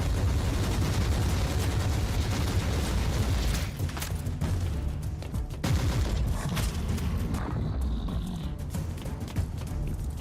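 Rapid automatic gunfire from mag dumping in the Warhammer 40K: Inquisitor - Martyr video game, a loud dense stream of shots running continuously for ten seconds amid booming explosions.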